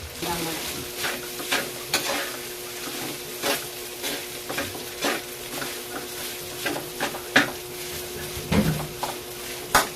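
Sinangag, Filipino garlic fried rice, sizzles steadily in a pan while a spatula scrapes and stirs it in repeated strokes, close up and without talk.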